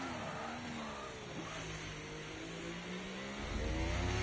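A Formula 1 car in a racing video game accelerates toward La Source, the first corner at Spa-Francorchamps, its engine a loud continuous whine rising through the gears, with a harder surge near the end.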